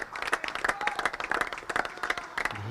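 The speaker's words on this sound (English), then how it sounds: "He has been rightly applauded by his teammates" Teammates applaud batsman Israr Ahmed at a Sharjah Cricket Stadium D10 match, a steady patter of many hands clapping close by, with a faint crowd murmur beneath, lasting the whole stretch.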